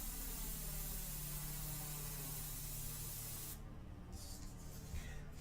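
Airbrush loaded with India ink sprays a steady, close, continuous hiss onto a test piece of paper, with a brief change in tone partway through as the spray shifts.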